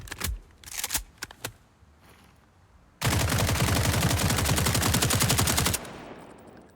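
AK-74M rifle fired in SCP: 5K, a sustained automatic burst of about three seconds with rapid, evenly spaced loud cracks, preceded by a few scattered clicks and handling noises.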